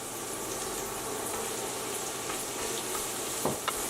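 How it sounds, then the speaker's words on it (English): Ginger and onion fry in a saucepan for chicken arroz caldo with mushroom, a dense, even sizzle filling the whole stretch, broken near the end by a couple of soft stirring knocks. "And then the ginger root here goes into the saucepan. We're going to give it a stir."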